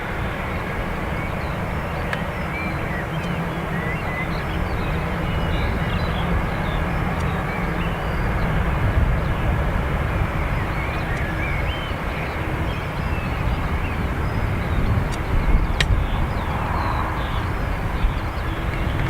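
A Ryanair jet on runway 28 right at Dublin Airport, a continuous broad engine roar and rumble holding steady with slight swells, heard from a distance outdoors.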